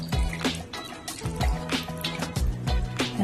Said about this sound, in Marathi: पाणी टाकून घ्यायचे